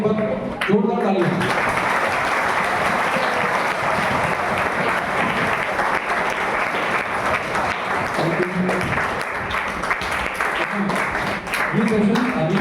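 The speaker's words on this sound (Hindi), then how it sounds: "और स्कूल मैनेजमेंट के लिए आप सबके लिए एक बार जोरदार तालियां।" Loud, sustained applause from a large group of schoolchildren and staff at a school session on anger management and meditation, a continuous dense roar of clapping with brief voices and cheers near the start and end.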